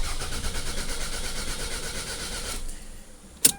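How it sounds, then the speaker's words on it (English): A 2004 Toyota RAV4 engine cranks without catching, a fast, steady rhythmic whirring that runs for about two and a half seconds and then stops, followed by a short sharp click. "So we got a crank no start."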